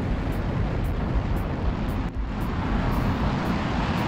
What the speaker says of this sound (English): The rocket leaves the ground with flames, largely coming out of the boosters.